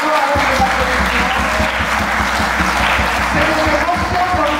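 Loud, continuous applause from a crowd at a women's rights event, dense and unbroken clapping that fills the space for several seconds, with a low steady hum beneath.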